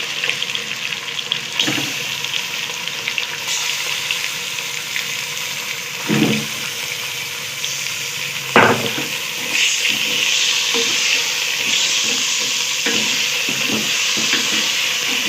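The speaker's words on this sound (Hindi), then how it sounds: "पाँच छः मिनट इसको भूनने जब तक गोश्त का कलर चेंज हो जाएगा तब तक इसको मैं भूनती हूँ।" Mutton frying in a pot for palak gosht, a steady close sizzle with occasional stirring scrapes and clatters, no talk.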